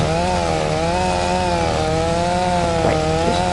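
A steel chainsaw in Farming Simulator runs loud and close as it bites into a huge tree, with a steady buzzing drone that wavers slightly in pitch and a few faint knocks near the end.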